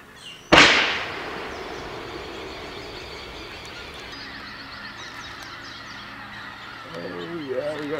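A rocket net fires over pintail ducks and geese with one sudden loud blast. Steady waterfowl honking and calling follow, and the flock's noise grows busier near the end.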